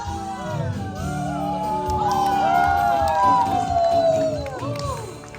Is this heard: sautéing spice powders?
no